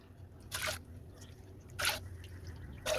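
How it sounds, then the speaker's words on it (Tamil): Water is added to washed moong dal, three cups in all, before pressure cooking; three short, soft splashy bursts of liquid come at intervals over a quiet background, with no talking. "3 கப் தண்ணி சேர்த்தாச்சு."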